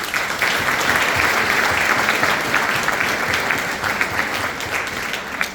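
An audience at a council of older persons forum with government officials applauding a keynote speaker, a full, sustained round of many hands clapping, strong at first and tapering slightly toward the end.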